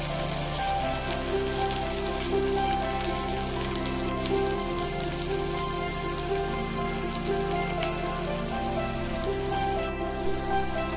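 Chopped onion, curry leaves and green peas fry in hot oil for a North Karnataka zunka, giving a steady, close, dense sizzle that holds at an even level throughout with no voices.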